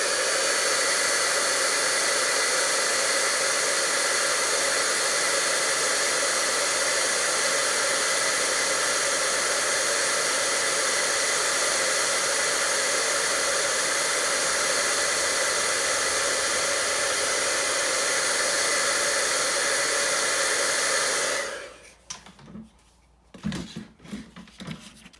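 A heat tool setting stamped ink on a card runs as a loud, steady blowing roar for about twenty seconds, then cuts off, leaving faint handling clatter.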